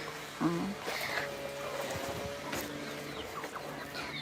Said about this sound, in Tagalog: punta tayo sa mga alaga nating manok